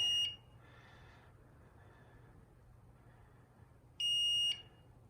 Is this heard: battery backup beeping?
yes